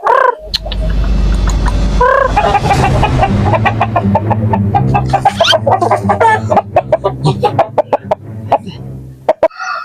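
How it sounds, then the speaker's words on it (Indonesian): Chickens cluck and squawk loudly and close by, with repeated sharp calls over a steady low hum and rustling, ending in a series of distinct clucks. "Hayam saha eta euy."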